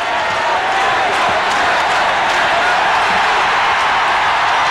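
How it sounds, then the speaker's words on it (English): A loud basketball arena crowd roaring and cheering for Kendall Gill as he reports to the scorer's table, a dense sustained wash of voices at steady high level throughout. "The cheer is for Kendall Gill, who is reported to the scorer's table"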